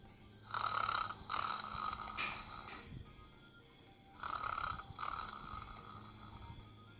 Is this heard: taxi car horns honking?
no